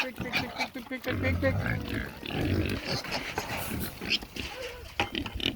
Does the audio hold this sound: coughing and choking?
no